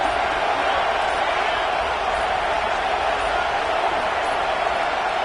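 A dense, continuous roar of a large stadium crowd at a Tennessee v Miami American football game on a third-down defensive play, loud and unbroken for the whole stretch without distinct voices standing out.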